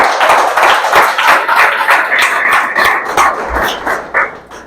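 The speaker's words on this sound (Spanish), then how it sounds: "Den un aplauso al Señor." A church congregation bursts into applause, a dense wash of clapping hands with sharp individual claps standing out, loud and close, rising and falling over a few seconds.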